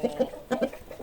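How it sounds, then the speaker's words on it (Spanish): Chickens on a farm at daybreak, hens clucking in a few short, close bursts with a soft, rhythmic pattern. No crowing stands out. "Los gallos cantaban, las gallinas cacareaban"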